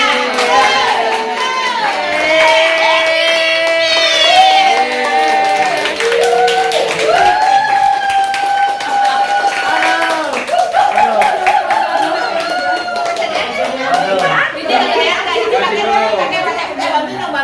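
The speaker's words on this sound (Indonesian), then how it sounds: "Ayo kita tepuk tangan semuanya." Small group gathering clapping and cheering: lively voices call and shout over steady hand claps throughout, close and loud.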